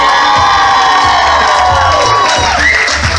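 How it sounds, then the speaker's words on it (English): Wedding guests at a Holiday Inn reception in New London, Connecticut cheer and whoop loudly for the bridal party, with children's shouts rising above a dense, close crowd roar that lasts the whole moment. "Let's keep your applause going for the very handsome Junior Ramirez."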